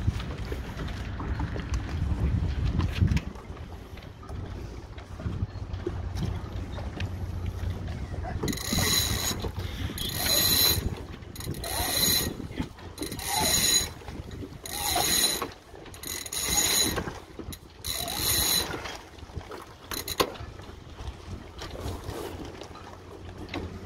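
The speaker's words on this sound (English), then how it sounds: "So here we are preparing to hoist the wing sail." Pulleys and rigging creak and ratchet as a boat's wing sail is hoisted by hand, in a steady series of rhythmic hauling strokes over light wind.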